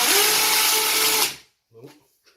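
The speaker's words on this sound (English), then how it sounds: "I'll drill a just in case hole there, just in case the others aren't good enough" A power drill bores a hole into a wall during a TV wall-mount installation, running loud and steady for over a second before cutting out, followed by faint brief clatter.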